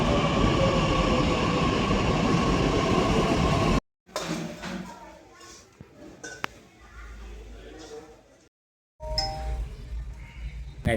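A metro train at an empty station in Pune: loud rumbling roar of the train for several seconds, then quieter platform sounds and brief chime-like tones, broken by two sudden drops to silence.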